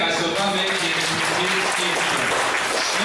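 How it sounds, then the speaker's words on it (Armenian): Loud, steady applause from an audience at a church gathering fills the whole stretch, a dense continuous wash of clapping with a voice faintly mixed in. "Եկեք բարձր ծափահարությունով"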